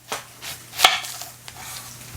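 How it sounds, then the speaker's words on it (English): Sparse knife strikes on a cutting board while chopping onions, a handful of sharp taps at irregular intervals, close and fairly quiet with a faint hum beneath. "I'm gonna cut my onions, chop them up"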